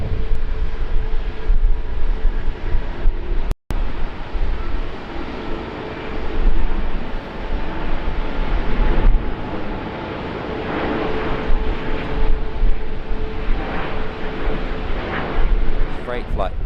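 Airbus A350-900 jet in carbon fibre livery, a steady broad engine roar filling the whole stretch at an airport, with a faint voice over it.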